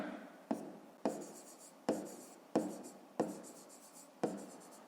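A pen writes in a school notebook during a fifth-grade maths exercise: six firm, evenly spaced strokes, each a sharp scratch that fades quickly, close and clear with no talking.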